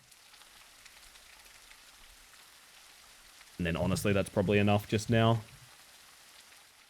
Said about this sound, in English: do you like that you can hear the rain sound effects stopping and starting again?